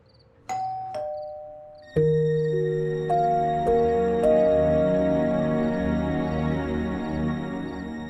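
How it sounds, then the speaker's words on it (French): A bell rung repeatedly in a household setting of a French-dubbed drama, several clear struck tones at about 0.5, 1, 2, 3, 3.7 and 4.3 seconds, each ringing on and layering into a sustained, loud metallic hum with no talk. "vas-y et sonnez la cloche"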